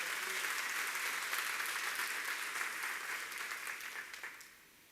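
A church congregation at a communion service bursts into applause: a sustained, moderately distant wash of many hands clapping that holds steady, then fades out over the last second.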